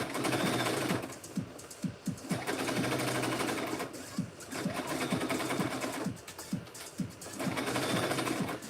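A sewing machine stitches a basting line along the very edge of a bag lining, running in long steady whirring bursts with brief pauses and a faint rhythmic thump underneath.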